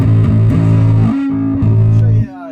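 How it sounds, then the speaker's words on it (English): Electric bass played through a handmade tube-style fuzz pedal modeled on the classic Anderton design, loud sustained distorted notes with a thick buzzing tone, changing pitch a few times before cutting off near the end. "It's based off that Anderton book, the classic tube fuzz."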